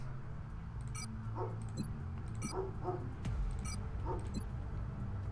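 A dog barks outdoors at some distance, a handful of sharp, scattered barks over a steady background hum and low rumble.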